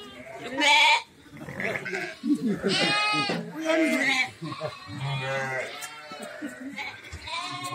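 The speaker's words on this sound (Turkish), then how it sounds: "Beş tane böyle beş kuzu var." Several orphaned milk-fed lambs bleat repeatedly and close by, high wavering cries overlapping one another while people talk nearby.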